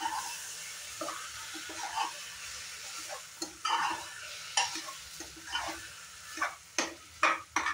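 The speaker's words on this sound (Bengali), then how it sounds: "আবার একটু সময় ফ্রাই করে নেব মশলার সাথে ডাল আর চালটা।" Lentils and rice frying with spices for khichdi, soft sizzle under repeated scraping strokes of a spoon against the pot, coming in uneven bursts.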